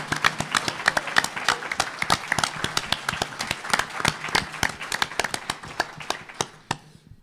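Applause from a conference audience, made of sparse and distinct individual claps in an uneven rhythm that taper off near the end, fairly faint and heard from across a room.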